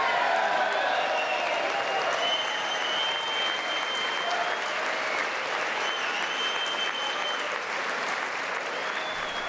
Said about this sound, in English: what happened there was huge applause from many Republicans